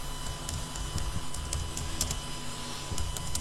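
Keys clatter on a computer keyboard as someone types in a rapid, uneven patter over a steady background hum, close by and fairly quiet, with no talking.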